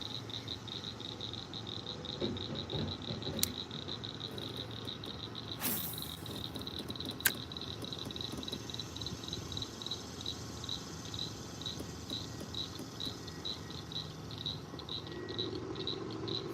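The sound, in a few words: frogs croaking at night by water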